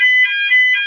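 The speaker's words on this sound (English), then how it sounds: "that's the fire alarm" Fire alarm ringing with a steady, loud, high-pitched electronic tone that pulses slightly, heard alone and up close for about a second.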